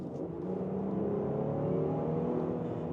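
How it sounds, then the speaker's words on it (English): The petrol V6 of a 2025 Lincoln Aviator Reserve SUV pulls hard under acceleration, a steady, rising engine drone heard from inside the cabin, continuous and fairly loud with no talk. "This engine doesn't have any of those hybrid complexity, just some good old-fashioned internal combustion grunt."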